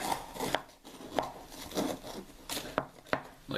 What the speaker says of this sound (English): I forgot to cut around the inner side.